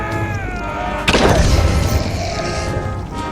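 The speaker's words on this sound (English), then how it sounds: "they explode when they go down" A creature explodes as it is killed in the video game The Banner Saga 2, a single loud, close boom that bursts out partway through and rumbles away over a held musical drone.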